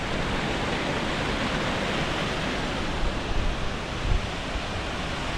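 Clear stream water in the Mandaram Nuwara hills rushes steadily over a washed-out path, a broad, even hiss with a few louder splashes near the end.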